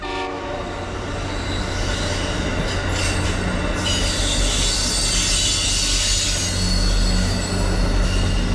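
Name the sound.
Metro North Danbury branch shuttle train arriving, wheels squealing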